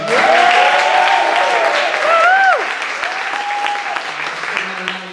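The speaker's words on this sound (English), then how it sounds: "I'd like to give another round of applause to our other coaches" Audience at a Last Scot Standing event applauds the coaches, a dense sustained clapping that fills the room, with whoops and a voice rising over it before the clapping thins out toward the end.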